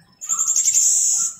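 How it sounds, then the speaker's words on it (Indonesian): A magpie robin, a caged murai, sings one clear, sustained high whistle after a brief quiet moment, close and loud, then breaks off abruptly. "ini murai, Bos, yang kemarin makan kecoa, bisa bunyi"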